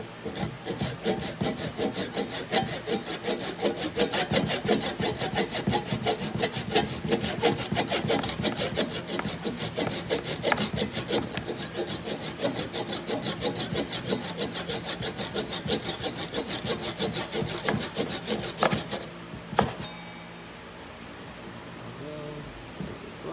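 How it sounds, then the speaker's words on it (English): A handsaw cuts the top of a piece of wood flush in steady, loud back-and-forth rasping strokes for about nineteen seconds, then stops and leaves quiet room tone. "So we're just cutting the top flush."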